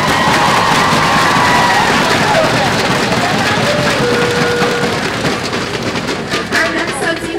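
An assembled crowd at an opening ceremony breaks into sustained applause mixed with cheering and whoops, a dense, loud wash of clapping that eases slightly toward the end.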